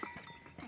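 Goats bleating on a small family farm where the bucks are in rut; a short, close, nasal bleat stands alone with no talk.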